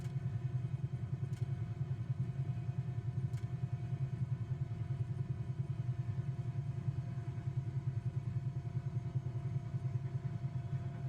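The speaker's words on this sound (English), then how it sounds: "roll the throttle back to the cutout detent to shut the engine down" A Bell 222B helicopter in Microsoft Flight Simulator rumbles steadily as its engine is throttled back to shut down, a low, fast-pulsing drone with a couple of faint clicks early on.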